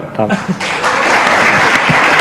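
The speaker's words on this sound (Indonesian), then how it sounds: "Tepuk tangan dong." Applause from an audience at an Indonesian talk event, a dense, steady wash of many hands clapping that swells and holds, with a voice speaking briefly at the start.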